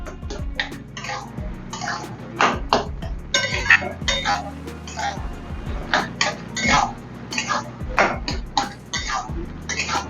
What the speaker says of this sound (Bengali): যেটা কর্নফ্লাওয়ার যেটা গুলে রেখেছিলাম ওটা একটু ঘন হওয়ার জন্য দেব। দিয়ে সঙ্গে সঙ্গে নাড়িয়ে নিতে হবে।